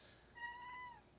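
A house cat gives a single drawn-out meow indoors, faint and alone against quiet background hiss.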